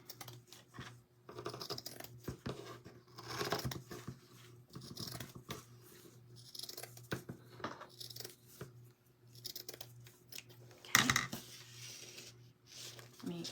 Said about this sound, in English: I'm just gonna cut this seam off.